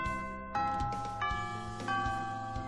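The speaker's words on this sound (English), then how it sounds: "Oh, the bell already?" A bright chiming bell tone rings out in the Hatoful Boyfriend school video game, a sustained tonal signal repeating in a few strikes over soft game music.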